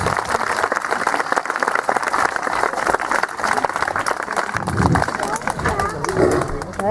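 An audience at a medieval festival in Pierrefonds claps for Raja the tiger. The applause is dense and sustained, mixed with crowd voices and talk throughout.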